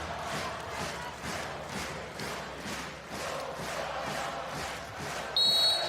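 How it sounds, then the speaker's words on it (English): An arena crowd at a women's volleyball match between Italy and Poland sings along in a rhythmic chant, with regular swelling pulses from a large crowd and a brief electronic tone at the end. "So there's a big sing-song going on from the arena crowd, the Stego Arena crowd."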